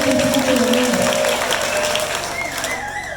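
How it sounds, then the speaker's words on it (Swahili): A church congregation breaks into loud, dense applause, with high ululating trills rising over the clapping and a voice calling out at the start. "Chapa mikono na vigelegele."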